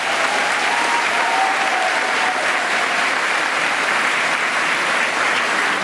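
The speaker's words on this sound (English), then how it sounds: "Give her another round of applause." An audience at a 2017 convocation ceremony breaks into sustained applause, a dense, even wash of many hands clapping that holds steady throughout with no pauses.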